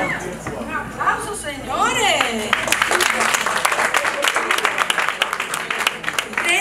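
Applause for sponsors at a Latin awards gala, with excited voices and cheering at first, then dense, steady clapping from the audience filling the rest alongside crowd chatter.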